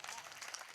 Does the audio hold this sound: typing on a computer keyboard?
no